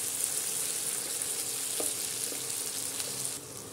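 Chicken fry sizzles in a pan as kasuri methi is stirred in over a low flame, a steady soft frying hiss with faint scrapes of the spoon.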